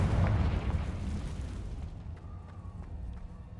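A Confringo fire spell from Hogwarts Legacy bursts in a loud, close explosion right at the start, then fades into a long crackling rumble with a few faint clicks near the end.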